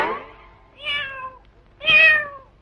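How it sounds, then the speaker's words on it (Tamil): A cat meows twice in a comedy scene, the calls rising and falling with clear harmonic tone, each roughly half a second long and spaced apart, fairly close and moderately loud, with no talk over them. "இல்ல பூனை. பூனை பூனை."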